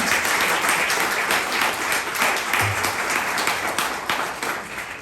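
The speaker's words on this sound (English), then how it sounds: "can we give a round of applause for all the rest of the speakers" A room full of people gives a sustained round of applause for the speakers at a community storytelling event about Black families coming to New Jersey. Dense, steady clapping runs throughout the clip and slowly eases toward the end.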